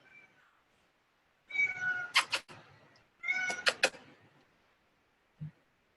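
A house cat meows twice in close succession, each call drawn out and clear, with a quiet room around it and a faint thump near the end.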